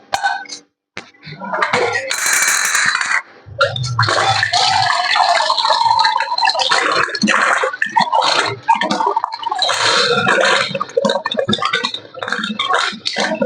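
Water pours steadily and loudly into a cooking pot while pongal is being made, a continuous close splashing rush lasting several seconds.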